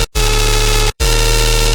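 Song drop with a loud, heavily distorted chaotic sub bass and a sampled melody layered on top, a dense, full wall of sound cut by two brief gaps of silence.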